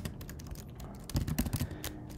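Keys clatter on a computer keyboard in quick irregular bursts, nearby and fairly loud, with a denser flurry of strokes midway.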